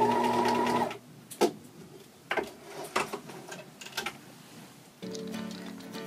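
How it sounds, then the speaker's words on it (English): Sewing machine stitching a welt pocket line in fabric, a steady mechanical whir that stops, followed by scattered knocks and handling clicks while the fabric is adjusted, then the motor runs again. "we're ready to sew our first line for our new pocket"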